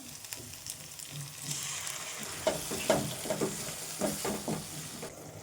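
Onion, tomato paste and curry leaves sauté in a pan with a steady sizzle, broken by uneven scraping and stirring clatters that grow busier toward the end.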